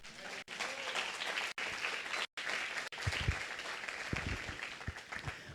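A church congregation applauds in a sustained, fairly distant burst of clapping that carries on for several seconds, with a few brief gaps.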